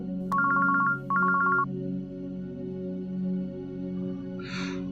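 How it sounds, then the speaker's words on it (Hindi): A phone rings in two short electronic trill bursts, then stops, leaving a steady low hum and a brief hiss near the end. "ये आधी रात को किसका फोन है?"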